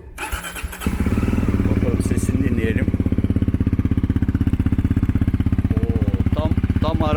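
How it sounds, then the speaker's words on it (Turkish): A Voge Rally 300GY off-road motorcycle engine cranks, catches and settles into a steady, close, loud idle with a fast, even pulse. A voice speaks briefly at the start. "Boşta çalıştıralım mı?"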